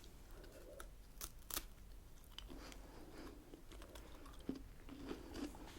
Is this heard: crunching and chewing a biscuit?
yes